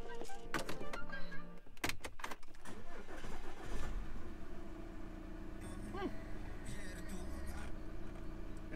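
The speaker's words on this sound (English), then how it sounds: "let's see if this car still starts." An Audi A4 B8 2.0 TDI diesel engine cranks with a few sharp bursts, struggles, catches, and settles into a steady idle, heard fairly close with no talking.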